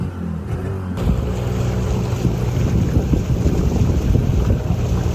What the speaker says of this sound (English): It's a crane boat.